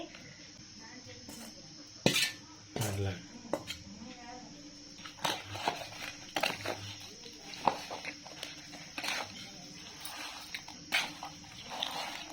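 A spoon clinks and scrapes against a pot as bitter gourd pickle is mixed with oil, giving scattered faint metallic knocks at irregular intervals beneath a person talking.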